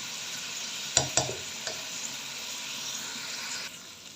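Grated carrots frying in ghee for gajar halwa as they are stirred, a soft, steady sizzling hiss with a couple of sharp spoon clinks near the start.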